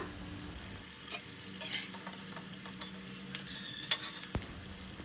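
Gram flour muthiya dough balls frying in hot oil with a steady low sizzle and bubbling, plus occasional stirring scrapes and light clinks of a utensil against the pan, close and without any talk.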